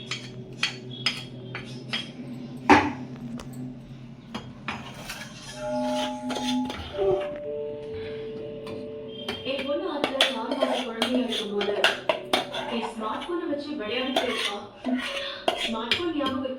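Pots, pans and cooking vessels clatter and clink nearby in a home kitchen while a vegetable curry is made, with scattered metallic knocks and scrapes and occasional ringing tones, and people talk in the background throughout.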